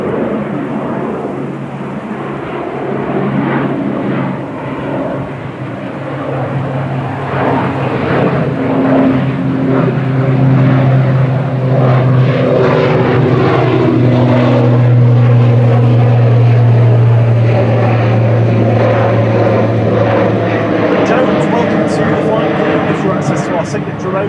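An ATR 42-500 turboprop airliner at windy Manchester Airport, a loud, steady propeller drone with a wavering pitch that holds throughout, while people talk over it.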